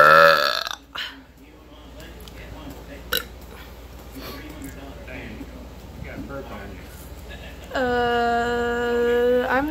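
Loud, drawn-out burps in a burp competition between two brothers and a girl: a burp at the start, quieter sounds and voices in between, then a long, sustained, strongly voiced burp at the end.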